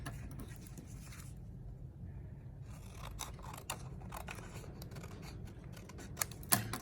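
Scissors snipping through folded card at a library craft session, a series of quiet close cuts and scrapes with a sharper snip near the end, no talking.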